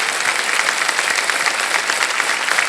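Studio audience applause on the KBC show: dense, loud, continuous clapping from a large crowd, even throughout with no voices over it.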